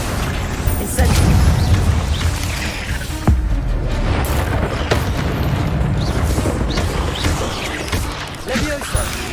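Booming magical fire blasts and crashing effects from the Incendio spell in Hogwarts Legacy, loud and continuous, with a voice calling out over the action.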